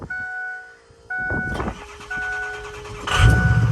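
Ford 6.0 diesel truck, deleted and studded, with a 4.5 inch downpipe into a 5 inch straight pipe and 6 inch tip: steady chime tones and clicks, then cranking and a loud, close, deep rumble as the engine catches near the end.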